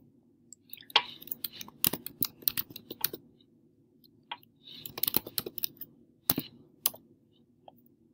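A username being typed on a computer keyboard, with two close bursts of quick key clicks separated by a short pause and a few isolated taps at the end.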